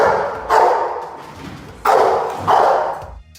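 A pack of fierce dogs barks in three loud, harsh bursts spaced about a second apart, close by, with thuds and scuffling between.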